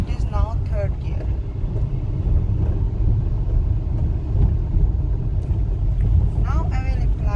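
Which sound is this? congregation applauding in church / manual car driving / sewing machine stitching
manual car driving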